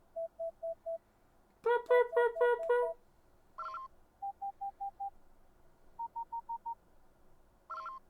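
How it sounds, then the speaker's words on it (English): A Star Wars Battlefront video game plays its match-loading sound: a series of short, evenly spaced electronic beeps in small groups, with a denser burst of chirping tones and a few brighter blips, all alone and clear. "Or when you load into a match in Battlefront 1."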